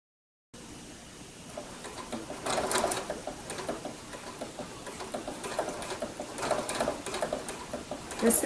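Sewing machine stitching quilt binding with a blanket stitch, a steady close whirring hum of the needle with bursts that speed up and slow down, running continuously.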